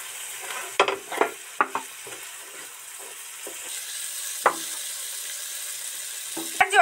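Turmeric and chili fry briefly in oil for a Bengali duck egg curry, making a low sizzle broken by a cluster of sharp spatula scrapes early on and a few later knocks.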